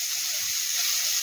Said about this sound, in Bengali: আমি আলাদা আলাদাভাবে ভাজছি এগুলো